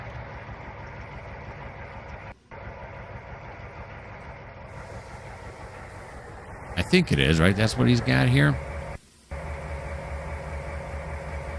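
A GP38-2 diesel locomotive in Trainz 2019 idles with a steady low rumble throughout, joined by a louder, rising engine burst near the end as it begins moving. Someone talks over it.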